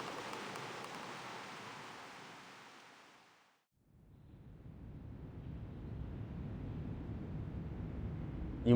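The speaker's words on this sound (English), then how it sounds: "She stands at that shore, watching the rain fall before her" Steady rain falls in the video game Reverse 1999. A hiss fades almost to silence, then returns as a deeper, fuller downpour, with no voices.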